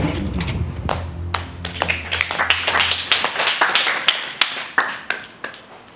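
Big Brother Australia housemates clap together in a room, starting as a dense burst of applause that thins into scattered, sharp individual claps over several seconds.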